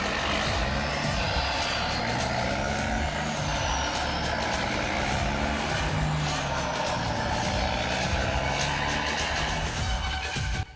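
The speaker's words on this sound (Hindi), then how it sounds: "सर आवाज तो आ रही है जंगल में, जैसे ट्रक आ रहे हैं कोई।" A truck rumbles through a jungle in the video game Free Fire, a steady low engine drone with broadband noise holding constant and loud for about eleven seconds.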